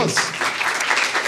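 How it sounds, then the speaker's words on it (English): A pitch event crowd gives a brief, full burst of applause, thick and close, filling the short moment. "One more round of applause."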